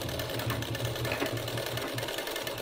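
A sewing machine runs steadily while stitching a sleeve onto a ready-made dress, its motor giving a continuous close hum with a regular stitching pulse, alone without talk.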